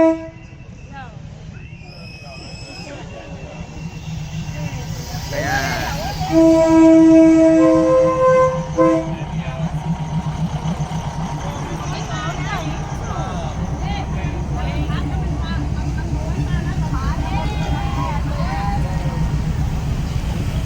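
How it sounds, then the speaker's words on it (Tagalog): Slow train pulling into the station at Maeklong Railway Market in Thailand, with a rumbling approach and a few horn toots midway, while people talk over the rolling noise. "Ayan, ayan na yung train."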